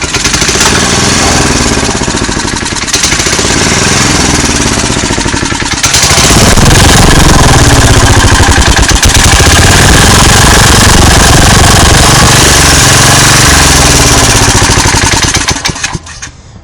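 A worn-out Tecumseh go-kart engine fires up and runs with a loud, steady buzzing chatter, roughening and rising about six seconds in, then stays close and constant until it cuts off near the end.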